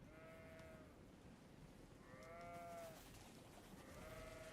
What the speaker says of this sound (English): Just hearing a bunch of sheep in the background.